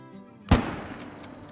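A single loud 45-70 rifle shot fired at a red deer in a hunting video game, a sharp close crack with a short rumbling tail fading into quiet ambience.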